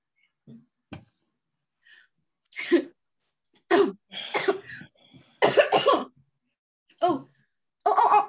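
A series of separate coughs and throat-clearing bursts, some single and some in quick pairs, close to the mic with silence between.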